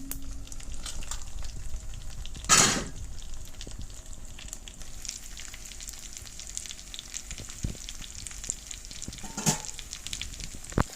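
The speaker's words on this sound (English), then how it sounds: "The pot, it requires a few minutes for it to heat up and start cooking the meat as well." Chicken wings sizzle and fry in a cast iron pot over an outdoor fire in Belize, a steady crackling hiss broken by a couple of sharp pops and clanks of handling.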